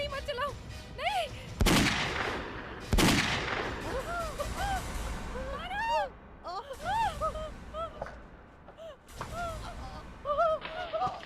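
Two sharp, loud gunshots ring out about a second apart during a tense scene in a Hindi TV crime drama, with raised voices and shouting before and after.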